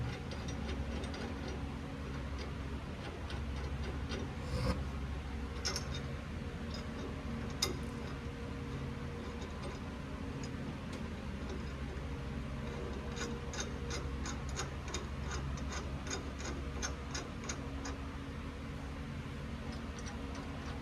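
A ratchet tightens caliper bracket bolts on an 89 Chevy Caprice during a disc brake job, with faint quick clicking bursts over a steady low hum, loudest near the end.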